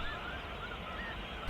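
Snow geese calling in the Fraser and Skagit River deltas, a few thin honks drifting over a steady flock murmur at a distance.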